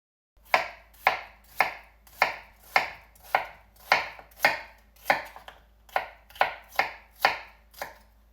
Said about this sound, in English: And now we just follow that vertical cut and slice it into about 1/4 inch thickness.